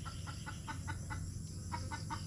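Chickens and chicks in a backyard: a steady run of short, evenly spaced peeps and clucks, close and moderately loud over a constant low background hum.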